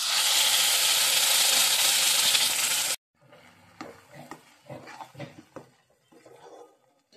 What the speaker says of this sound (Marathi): तेल सुटेपर्यंत मस्त परतून घ्यायचा